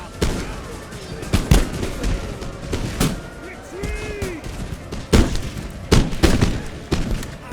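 Musket volleys from line infantry in an eighteenth-century naval-era battle, sharp loud cracks and booms going off irregularly, about six distinct discharges with rolling echoes, and someone speaking between them.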